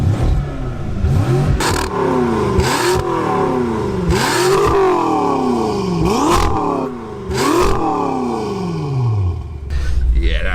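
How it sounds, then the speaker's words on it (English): A tuned 750 bhp BMW M6 with an Armytrix aftermarket exhaust revs repeatedly, each rise swelling into a roaring exhaust note and dropping back, several aggressive blips in a row nearby. "This is what my M6 sounds like. 750 brake horsepower with an Armatrix exhaust."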